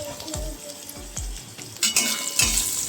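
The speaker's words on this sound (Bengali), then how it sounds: "এবার তেলের মধ্যে এই ডাঁটা আর উচ্ছেগুলোকে বেশ ভালোভাবে একটু সামান্য পরিমাণ নুন আর একটু হলুদ গুঁড়ো দিয়ে ভেজে নিতে হবে" Drumstick stalks and bitter gourd fry in hot oil with salt and turmeric for a Bengali sukto dal, giving a steady close sizzle broken by regular soft thumps of stirring about once a second.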